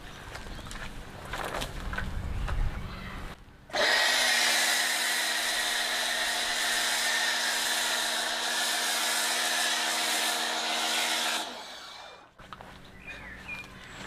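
An MJJC Foam Cannon Pro fitted with a 1.1mm nozzle sprays foam from a pressure washer, a loud, steady close hissing spray that starts abruptly, runs for about eight seconds and cuts off, with quieter handling noise before and after.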